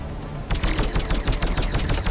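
Automatic gunfire in Mass Effect 3 erupts after a quiet half second, a loud rapid rattle of shots in quick irregular bursts close by, continuing to the end.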